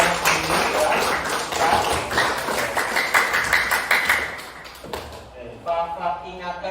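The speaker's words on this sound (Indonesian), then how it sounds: "Beri tepuk tangan untuk kalian sendiri, ya." A classroom of students applauding themselves: a burst of brisk, fairly close clapping with irregular hand claps and thumps that thins out toward the end, with a voice talking over the start.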